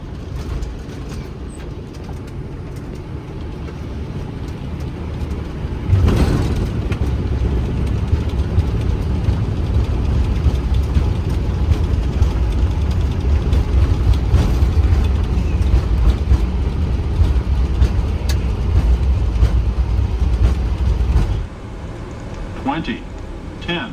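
Real cockpit recording of a Boeing 777 landing: a steady roar of airflow and engine noise, a sharp thump at touchdown, then rumbling rollout until it drops away near the end, with crew voices throughout.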